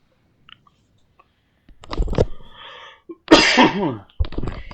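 A person coughs several times during a gaming livestream, three harsh, separate bursts close to the microphone with short quiet gaps between them.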